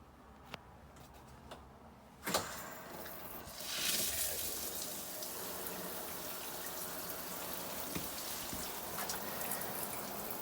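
Water from an RV shower hose splashes steadily down a drain, a sudden burst near the start settling into a continuous, moderately loud spattering flow with faint drips and ticks before it.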